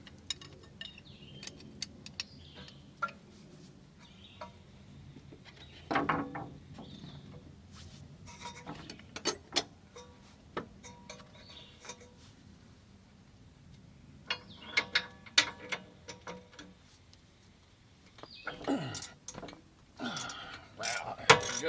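A wrench ratchets and cranks on the rear brake caliper of a 2019 Honda Odyssey during a brake job, giving scattered clicking, metallic rubbing and clanks at close range, with bursts of louder handling near the end.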